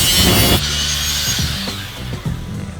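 A power tool cuts through steel during the building of a PSE 6AS7 tube amplifier: a loud, continuous high whine and grinding that shifts pitch partway through, alone without speech.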